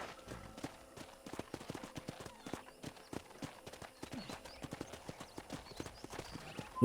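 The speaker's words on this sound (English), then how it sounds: "let's see if you can still ride a horse" Horse hooves clip-clop in a steady, even rhythm, as of a horse walking at a brisk pace, over a faint sustained background tone, in the video game Red Dead Redemption.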